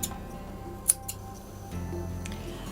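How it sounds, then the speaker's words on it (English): Scissors give a couple of small, sharp snips through a dress's fabric seam allowance, close and quiet over a faint hum. "You snip it"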